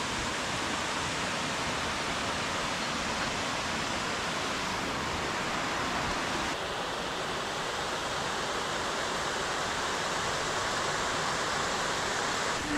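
Lower Duden Waterfall in Antalya, Turkey, a steady, dense roar of falling water that stays loud and unbroken throughout, with no voices over it.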